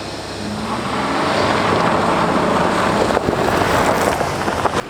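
A Jeep launches hard on a slippery surface and its wheels spin, the engine revving in a rising roar that holds loud and close, with wind buffeting the microphone.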